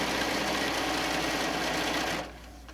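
A sewing machine quilts a quick wall-hanging panel quilt with a walking foot, a fast, steady, close mechanical chatter that stops abruptly near the end, leaving quiet room tone.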